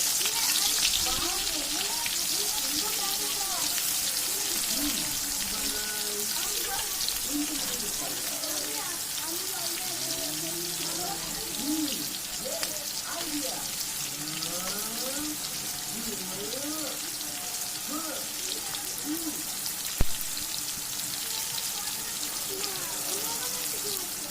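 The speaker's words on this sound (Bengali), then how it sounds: "পেঁয়াজটা ভাজা হয়ে গিয়েছে।" Onions sizzle in mustard oil in a wok during mutton curry cooking, a steady dense crackling hiss throughout with a person talking over it.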